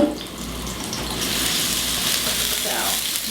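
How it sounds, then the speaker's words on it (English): Garlic and peppers sizzle in hot oil in a very hot steel wok, a loud, steady hissing crackle that rises as the ingredients hit the oil. "When the oil is hot, you should hear it sizzle as it goes in there."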